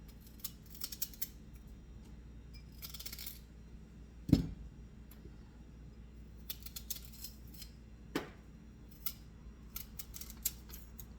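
Dry ends being trimmed off tart rhubarb stalks: a few sparse, sharp cutting snips and clicks stand out against a quiet room, with one louder cut near the middle and another a few seconds later.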